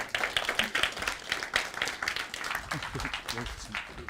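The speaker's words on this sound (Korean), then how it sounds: "여러분 큰 박수로 맞이할게요" An audience at an AI developer course project presentation event claps to welcome a judge giving closing remarks. The clapping is lively and sustained, with voices talking over it toward the end.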